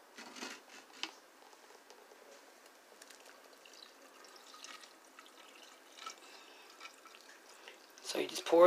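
Watermelon drink with ice poured through a strainer, a faint trickling and dripping of liquid running steadily in the background, with soft splashes and a louder burst near the end.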